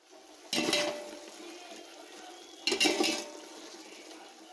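Mushrooms, six hundred grams, frying in a pan for mushroom biryani, a steady soft sizzle with two louder bursts of hissing as they are stirred or tossed, close by and with no talk.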